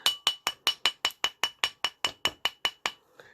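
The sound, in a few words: hammering a metal ring with a rawhide mallet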